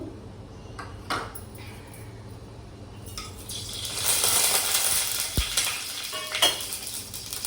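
Green chillies and onions frying in hot tempering oil in a pan, a rising sizzle with scattered scrapes and metallic clinks of a stirring spoon, close up and without talk.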